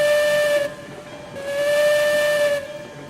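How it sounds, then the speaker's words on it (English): Two blasts of a steam locomotive whistle in the train game Railroads Online, each a loud steady chord-like tone lasting about a second, separated by a short pause, alone without talk. "give a little whistle."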